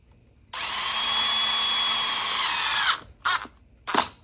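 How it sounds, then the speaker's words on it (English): A power drill drives screws into the corners of a wooden block for a carpenter bee trap: one loud, steady whine lasting over two seconds, then two short bursts as the screw seats. "I'm putting these screws towards the corners of the block."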